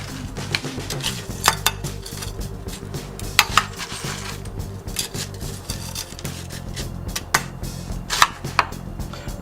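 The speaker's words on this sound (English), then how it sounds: "Finish capping it off with more ice." Crushed ice is spooned into a cocktail glass for a parsley julep, making irregular scraping, crunching and clinking sounds with sharp rattles scattered throughout, close and fairly loud.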